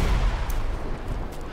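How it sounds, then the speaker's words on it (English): Explosions bursting in the air in the GTA 5 video game, a loud booming rumble with dense low crackle that fades slightly over a second and a half, no talking. "Oh, is it just random explosions in the air?"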